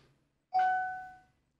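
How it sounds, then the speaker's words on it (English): An eufy Smart Lock Touch gives a single clear electronic chime as it unlocks, a bright ringing tone that fades out over about a second in a quiet room. "Another chime."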